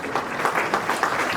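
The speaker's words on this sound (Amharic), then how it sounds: "አጨብጭቡልኝ።" At a class of 2024/25 graduation ceremony, a seated audience claps in a brief, full round of applause, many hands together at an even, lively pace, loud and close with no talking over it.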